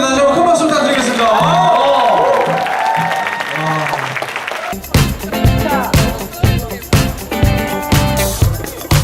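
Live music fades and then an audience bursts into warm applause for a band at a Korean talk-show event with authors. Clapping starts midway, close and full, rising and falling in several waves.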